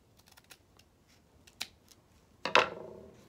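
Scissors snip through fabric for a child's cape, a few faint clicks and then a louder crisp cut, with quiet handling in between.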